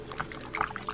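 Hot water poured from an electric kettle into an instant cup noodle container at home, a soft, close trickling pour with small splashy bursts, quiet and alone.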